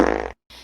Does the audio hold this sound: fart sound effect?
yes